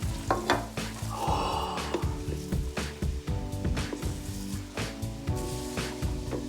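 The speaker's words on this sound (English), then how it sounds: "we stir quickly to spread the color around" Popcorn being stirred into melted colored sugar in a hot pan, with a steady sizzling bubble under repeated scraping and rustling strokes of the spoon, loud and close, with a pulsing hum running underneath.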